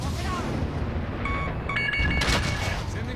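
Rocket fire and blasts in Warzone gameplay, a continuous rumbling barrage with sharp cracks and booming impacts near the end, loud and dense throughout.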